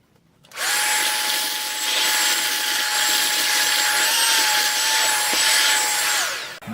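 A Ryobi P-714K 18-volt ONE+ cordless hand vacuum whirs at a high, steady pitch for about six seconds, switching on abruptly and winding down at the end, close to the microphone with no talk.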